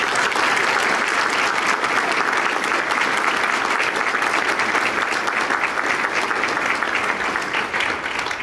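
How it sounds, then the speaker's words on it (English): An audience at a charity event for Leading Families Home breaks into sustained, dense applause, loud and steady from start to finish with a faint crowd murmur. "I would just like to take a moment for you guys to applaud the energy that is given to Leading Families Home"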